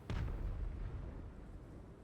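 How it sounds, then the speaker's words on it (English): Mortars fire in a Total War: Warhammer battle between the Empire and Kislev, one deep booming launch followed by a long rumbling decay under faint distant battle noise. "Mortars continue to shoot."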